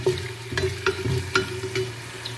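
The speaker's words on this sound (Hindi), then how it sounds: "अब इसको हम प्याज़ों को हल्का सा ब्राउन कर लेंगे।" Onions fry in hot oil for a mutton shorba, a steady sizzle broken by a few sharp stirring scrapes and clinks, close and moderately loud with no voices.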